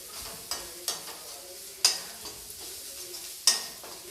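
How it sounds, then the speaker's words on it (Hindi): Spices and asafoetida stirred in a pan for a gravy, a spoon scraping and tapping the metal every second or so, with a couple of sharper clinks against a soft sizzle. "और साथ ही मैं डाल दूँगी हींग। इन सबको मैं अच्छी तरीके से मिला लूँगी।"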